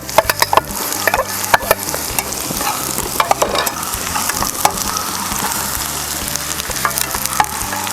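Sliced onions sauté in an oil-filled pan for upma, a steady close sizzle punctuated by frequent sharp clacks and scrapes of a spoon stirring against the metal.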